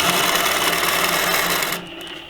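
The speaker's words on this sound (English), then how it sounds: "I want to stitch this inside area down a bit." A longarm quilting machine stitches down a quilt binding with a fast, steady mechanical whir that runs loud and unbroken, then stops abruptly near the end, leaving only a faint hum.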